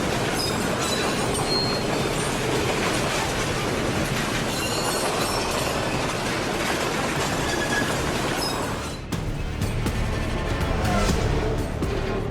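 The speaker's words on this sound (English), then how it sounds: "shows the moment a Brightline train collided with a car in North Miami Beach" A Brightline train in North Miami Beach rushes past loudly and strikes a car, a dense continuous rumble of rail noise that briefly dips, then resumes with a sharp jolt near the end.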